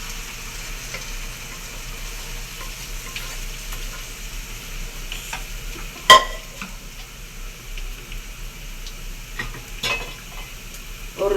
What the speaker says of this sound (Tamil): இப்போ பச்சை மச்சை வேக வச்சதை நம்ம ஊற்றிக்கிடுவோம்.